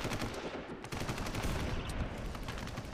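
Rapid automatic gunfire in 50 Cent: Blood on the Sand, a steady stream of sharp repeated shots, fairly quiet overall and without pause across the whole stretch.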